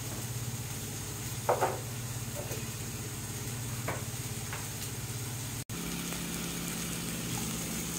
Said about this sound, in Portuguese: Dá uma douradinha na cebola